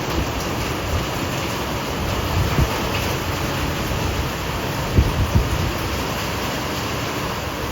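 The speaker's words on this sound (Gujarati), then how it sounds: "એક ધારો વરસાદ હજી ચાલુ જ છે" Heavy, steady rain falls outside during a downpour, a dense, unbroken hiss that holds at an even level, with a few soft low thumps near the end.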